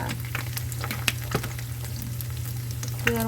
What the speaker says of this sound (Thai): ก็ เจียวไข่ก่อนนะคะ เจียวไข่เสร็จ แล้วก็จะเติมเกลือลงไปนิดนึงค่ะ